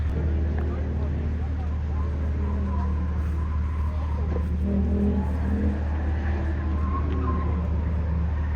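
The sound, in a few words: BMW and Mercedes cars racing at Festival of Speed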